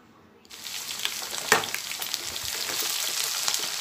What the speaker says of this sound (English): Adding big onion first because it will take some time to